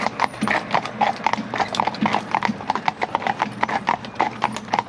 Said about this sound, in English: driving horses